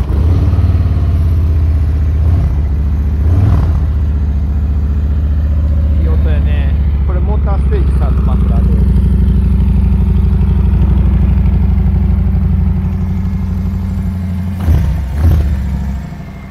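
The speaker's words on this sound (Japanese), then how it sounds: "なんかでちょっとエンジンをかけさせてもらいましょう" A Harley-Davidson Fat Boy motorcycle engine runs at a steady low idle, loud and close, with brief bursts of voices or handling noise near the start and end.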